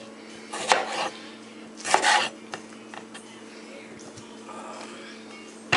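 Quartered small ripe tomatoes dropped into a container for salsa, giving two short clattering thuds a second apart, then a couple of faint knocks and a sharp clack at the end.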